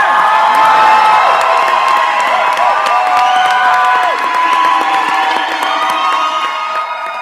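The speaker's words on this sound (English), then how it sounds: "Stand up and let's" A large audience at a nursing pinning ceremony for an accelerated BSN class cheers loudly, with whoops and shouts mixed into a continuous roar of applause that slowly fades over several seconds.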